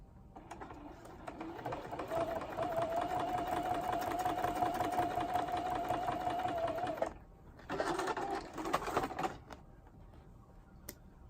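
A sewing machine quilting an acrylic-painted pineapple piece runs in a fast, steady stitching rattle for several seconds, pauses briefly, then resumes in a shorter burst, close and clear.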